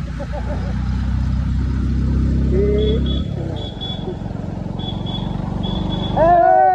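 A village four-wheeler's engine rumbles loudly and close in a crowded traffic jam at a pilgrimage site, then eases off as chirping tones and crowd voices take over.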